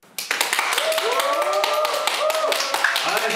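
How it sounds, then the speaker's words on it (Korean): Audience claps at the opening of a carbon-neutral climate education lecture, quick sharp hand claps starting abruptly and continuing densely, with a voice speaking over the clapping. "여러분의 큰 함성과 박수로 시작하겠습니다."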